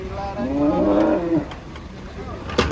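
A very large cow moos once, long and close, near a truck at an Indonesian livestock unloading, followed by low background bustle and a short knock.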